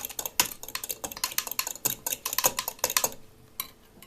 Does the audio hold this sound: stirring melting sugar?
yes